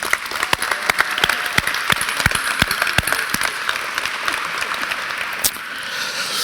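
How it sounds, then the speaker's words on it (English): A crowd at a NASA and Alabama A&M STEM event applauds loudly: sharp, distinct claps ring out close to the microphone, then settle into a steadier wash of applause toward the end. "let's give him a round of applause."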